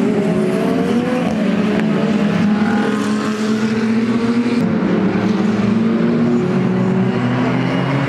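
GT2 race cars, including an Audi R8 GT2 and KTM, lapping a circuit, engines droning steadily and close with shifting pitch as several cars pass, continuous and loud with no talk.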